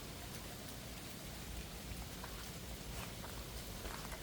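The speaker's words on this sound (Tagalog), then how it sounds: "Yan na, ulan na guys." Rain falls steadily outdoors at a farm, a soft, even hiss of drops on surfaces heard from a distance with no breaks.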